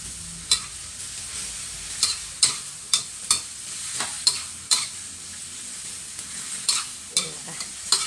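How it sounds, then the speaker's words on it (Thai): Pork belly and sweet peppers sizzle steadily in a pan while a utensil scrapes and clacks against the metal in repeated sharp strokes, close and fairly loud with no talking. "แล้วก็ผัดให้เข้ากัน"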